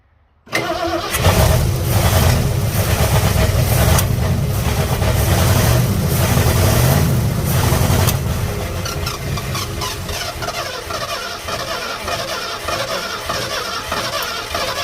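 An engine that has sat abandoned for over 25 years cranks on its starter and then catches, running loud and close with a steady rough drone that eases slightly in level toward the end.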